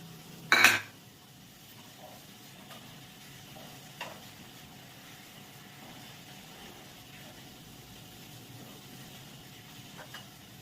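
Cumin seeds and dried red chilies hit hot oil with a sharp burst of sizzle, then settle into a faint, steady hiss with a few soft crackles and pops.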